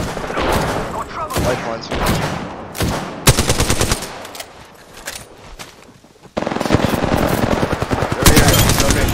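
Video game gunfire during a live-streamed shooter match, rapid automatic bursts repeating loud and close in several volleys, with players talking excitedly over the shots.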